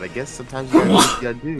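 A single sharp sneeze bursts out between stretches of casual talk, loud and close, lasting about half a second.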